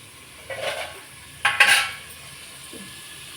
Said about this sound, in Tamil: இப்போ நம்ம வெங்காயத்துக்கு கொஞ்சம் உப்பு போட்டு வதக்கலாங்க, சீக்கிரம் வதங்கிடும்